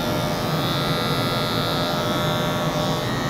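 A Wahl Magic Clip hair clipper buzzes close and loud during a fade haircut, a constant electric drone with a bright high whine, running alone.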